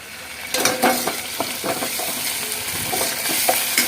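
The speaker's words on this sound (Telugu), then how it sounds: "ఇప్పుడు పోపు వేగిపోయింది కదా" Tempering crackling in a pan for amaranth leaf dal, loud close sizzling with sharp pops and stirring scrapes repeating throughout.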